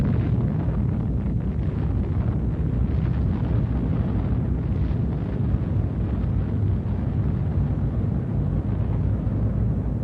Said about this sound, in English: The first hydrogen bomb test.